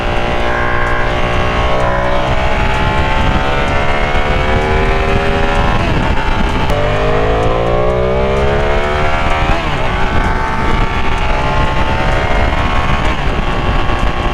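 Ducati Panigale V2 sport motorcycle riding in sunny Miami, its engine loud and continuous with rising and falling revs as it accelerates and shifts, close and steady throughout with no talk.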